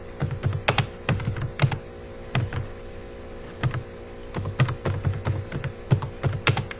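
Code being typed on a computer keyboard in bursts of quick, close clicking keystrokes with brief pauses between them, over a low steady hum and with no talking.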